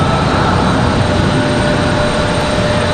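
Republic Airways jet going around at Raleigh-Durham airport, a loud, steady engine roar filling the whole stretch without letting up, heard outdoors with no talk.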